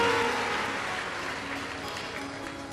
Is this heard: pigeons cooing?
no